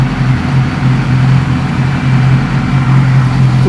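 Yamaha R6 sport motorcycle idling steadily with its radiator cooling fans running, a continuous low engine hum with a constant airy whir on top, close and moderately loud, no talking.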